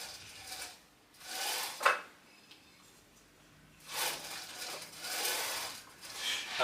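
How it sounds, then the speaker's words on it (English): A 12-inch sliding mitre saw, in need of oil, is pushed forwards and backwards on its rails, giving soft scraping rubs in several separate strokes with quiet gaps, faint and close. "It slides forwards and backwards like this."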